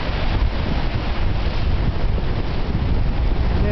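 Waves roll on Lake Ontario under strong wind, a loud continuous roar of surf and buffeting wind noise filling the whole stretch.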